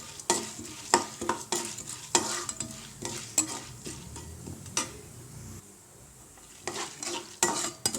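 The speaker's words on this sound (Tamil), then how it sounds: "கடலைப்பருப்பு, போட்டு நல்லா பொன்னிறமாக வறுத்துக்கலாம்." Chana dal fries in oil in a pan while a spoon stirs it in quick, close scraping strokes over a steady soft sizzle, with a brief lull near the end.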